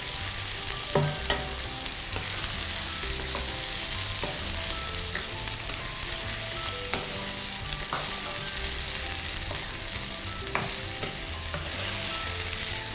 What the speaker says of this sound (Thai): ตัวนี้ผัดเร็วๆเลยนะคะ